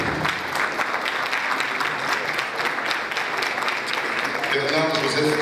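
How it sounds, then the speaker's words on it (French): An audience at an opening-night event applauds a named guest, with dense sustained clapping throughout and a voice speaking over it near the end. "Je vous prie d'applaudir Michel Soukard."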